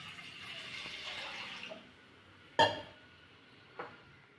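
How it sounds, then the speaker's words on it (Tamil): Water is poured into a pan on a lit stove while cooking pumpkin halwa, a soft splashing fill that fades out, followed by a sharp metallic clink and a fainter second knock. "தண்ணி ஊற்றிக்கிறேன்."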